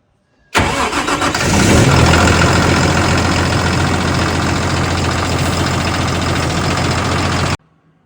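A YTO ELG 1754 tractor's 6.4-litre Cummins common-rail diesel starts with a brief crank, catches and settles into a loud, steady close idle that runs several seconds before cutting off.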